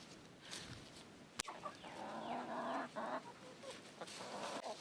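Chickens clucking inside a chicken coop, several birds making short overlapping clucks and murmurs at close range, with a sharp knock partway through and no talking.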